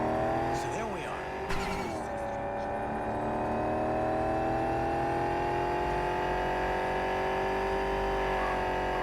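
A car drives in Cyberpunk 2077, its engine a loud, steady drone with a brief squeal near the start, continuous throughout.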